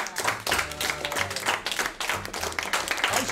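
A small group claps in uneven bursts during a youth camp session, close and irregular hand claps with some overlapping murmur and background noise beneath.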